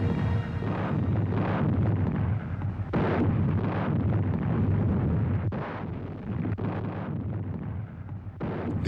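Heavy naval guns firing a bombardment off Normandy on D-Day, a continuous loud roar of booming blasts with sharper bursts recurring every second or so, dense and close with no gaps of quiet.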